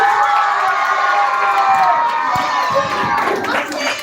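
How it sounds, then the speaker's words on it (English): Children cheering and shouting at a school round of a children's literature festival, a loud sustained crowd roar with high voices that fades slightly near the end. "Yes, thanks for the cheer."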